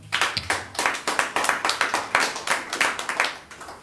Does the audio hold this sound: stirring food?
no